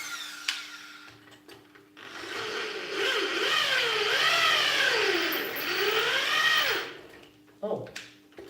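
Power drill whining steadily while boring into a homemade fuel tank for an oil burner, the bit catching and snagging, the motor rising and falling in pitch as it bogs under load for several seconds, with brief talk before and after.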